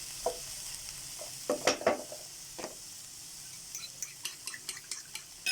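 Bitter melon (ampalaya) sautéing in a pan, a soft steady sizzle broken by irregular scraping and clacking stirring strokes, close and fairly quiet.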